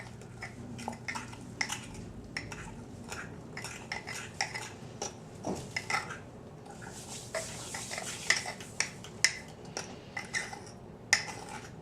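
Egg being blended into chocolate cake mix in a bowl, a steady run of light clinks and scraping stir strokes, close and fairly quiet, with sharper taps toward the end.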